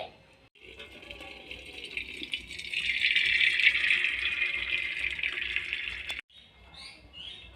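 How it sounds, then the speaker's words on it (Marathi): Cold water from a glass poured over boiled wheat vermicelli in a sieve makes a steady splashing trickle that builds and runs for a few seconds before stopping abruptly, fairly quiet and close. "आता मी इथे थंड एक ग्लास याच्यावरती पाणी घालून घेत आहे"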